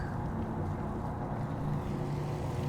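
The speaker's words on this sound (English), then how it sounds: "now we're gonna switch over to the KitchenAid and shred this up with the paddle attachment" A KitchenAid stand mixer with the paddle attachment shredding cooked red chile brisket gives a steady, continuous motor drone with a low churning rumble, even and unbroken throughout.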